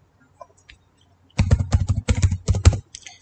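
A computer keyboard is typed on in a quick, close run of clicky keystrokes lasting about a second and a half, preceded by near silence.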